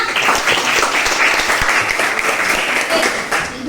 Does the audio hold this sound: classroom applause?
yes